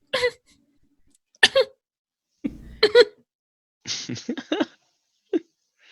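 A voice imitates a series of tiny, petite sneezes, several short sharp bursts separated by silence, close and clear.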